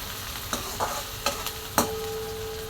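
Onion fried with salt in a frying pan gives a steady sizzle, with about five distinct scraping strokes of a spoon as the mixture is stirred, and no talking.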